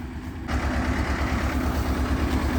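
A Zetor 1811 tractor engine idles steadily with a low, even rumble, loud and close, with no voices.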